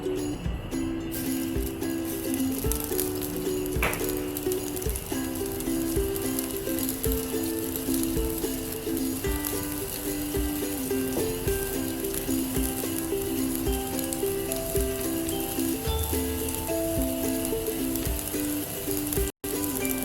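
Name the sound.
paniyaram batter poured into hot pan, sizzling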